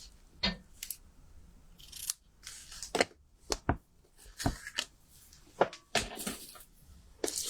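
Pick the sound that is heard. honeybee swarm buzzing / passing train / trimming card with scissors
trimming card with scissors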